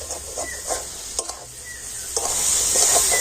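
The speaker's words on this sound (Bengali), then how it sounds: "এবার একটু নাড়াচাড়া করে নিতে হবে" A raw mango mixture for barfi is stirred in a pan over low heat, with gentle scraping strokes over a faint, low sizzle, brief and quiet.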